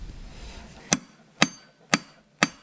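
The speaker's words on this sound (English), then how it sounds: "Shock it like that with the hammer and see if it turns" Four sharp hammer blows strike the blade of an Eco Shredder ES 1600 chipper to shock it loose, evenly spaced about half a second apart, close and crisp with quiet gaps between.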